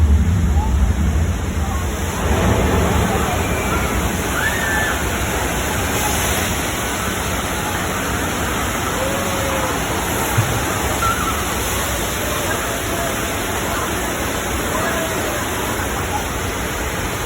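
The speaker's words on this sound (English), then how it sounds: "The water main just broke." Steady, loud rush of water gushing from a burst water main fills the whole clip, a dense roar with a brief faint voice near the start.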